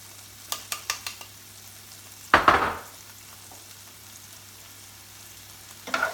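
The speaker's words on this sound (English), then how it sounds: "Now I'm going to add my onions." Onions go into a hot pan for a creamy prawn courgetti dish and hiss with a sharp burst of sizzling, after a few light clicks of a utensil, then settle into a faint, steady frying under brief stirring sounds.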